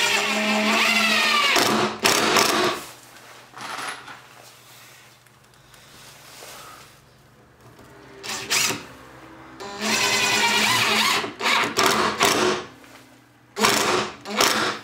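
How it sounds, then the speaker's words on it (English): Power drill driving a screw while building a table saw extension cabinet: several loud whirring bursts of motor run, pausing between drives, with quiet gaps of workshop room tone in between. "Then I remove this and I drive the screw."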